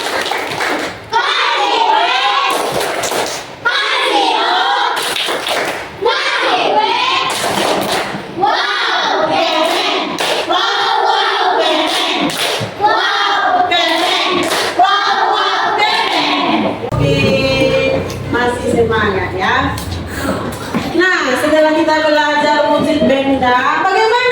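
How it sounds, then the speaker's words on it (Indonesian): Children in a classroom chant rhythmically together with bursts of clapping, the voices loud and continuous, ending in a raised group shout. "Nah, kita tepuk wow dulu biar semangat ya."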